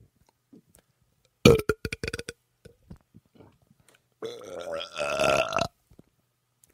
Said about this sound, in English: It's tough to get out those wet belches.